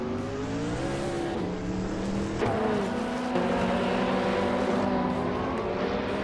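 A 1996 Peugeot 406 race car in a racing video game, its engine droning and rising in pitch through gear changes, joined by other cars' engines, loud and continuous with no talk.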